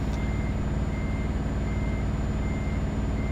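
In Euro Truck Simulator 2, a truck's reversing alarm beeps steadily in a continuous tone over a loud, constant diesel engine rumble, with no talking.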